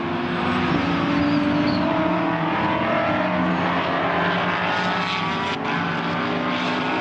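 GT4 race cars run on the track at a LIQUI MOLY GT Festival race in Darwin. Engines roar in a dense, continuous wash that stays loud and steady for the whole stretch, with no voices over it.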